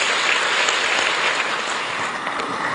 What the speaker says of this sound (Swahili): Naomba kumpigie makofi mengi sana sana.